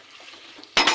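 A spoon scrapes and clinks once against a pot of simmering mutton boti curry as it is stirred. The brief, close stroke comes after a moment of quiet.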